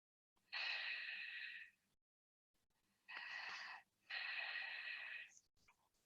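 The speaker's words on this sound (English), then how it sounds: "Breathing the Ujjayi breath," Ujjayi yoga breathing, the ocean-sounding victory breath: three long, close, hissing breaths, each lasting about a second or more, separated by short silent pauses, with no talk.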